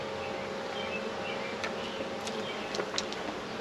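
Honeybees swarm around an open hive during a super inspection, giving a steady, dense buzz throughout with a few brief louder passes from bees flying near.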